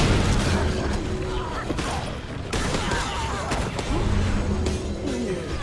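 Cannon fire in the game Guild Wars 2, a dense run of booming blasts and crackling bursts that carries on without a break, loud and close, with faint game noise in the background.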